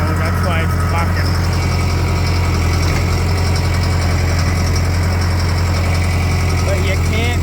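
A John Deere 6430 tractor's engine runs steadily and loudly while scraping manure in a heifer barn, a deep constant drone with rattling vibration throughout and occasional faint speech mixed in.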